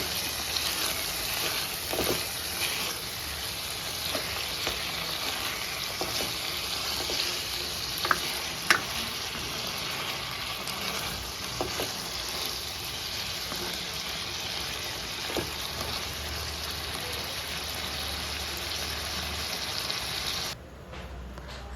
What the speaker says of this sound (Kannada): ಕೊತ್ತಂಬರಿ ಸೊಪ್ಪನ್ನು ಅಷ್ಟೇ ಫ್ರೈ ಮಾಡ್ಕೋಬೇಕು